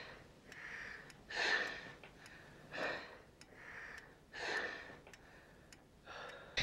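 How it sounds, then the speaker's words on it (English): Heavy panting and gasping from a man waking from a terrible nightmare in the film Fatal Deviation: four loud, rasping breath bursts with quieter breathing between them, close and alone. "He wakes up from a terrible dream and a lot of panting."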